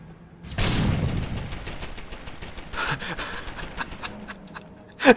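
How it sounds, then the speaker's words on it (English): An automatic turret firing in the video game Deus Ex: Human Revolution: a long, steady rattle of rapid shots that begins with a heavy burst, continues at moderate loudness and ends with a louder bang. "Set the turret off, that's funny."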